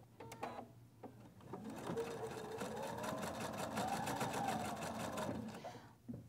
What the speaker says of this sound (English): And we're going to sew those strips together.